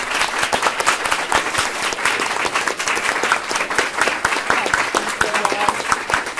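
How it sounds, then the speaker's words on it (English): A forum audience for San Diego County Board of Supervisors District 4 candidates breaks into sustained applause, dense overlapping clapping filling the room loudly and steadily throughout. "Now's our chance to clap and thank them."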